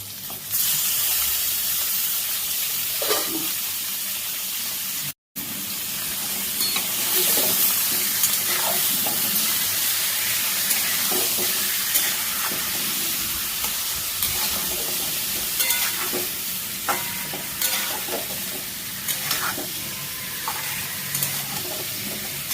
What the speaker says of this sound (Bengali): পেঁপে আলু দিয়ে দিলাম। ওই একই সাথে চিকেন দিয়ে দেবো।